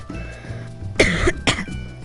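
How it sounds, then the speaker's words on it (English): Two sharp, close coughs in quick succession, loud against a quiet background. "Sorry, didn't mean to cough in the mic."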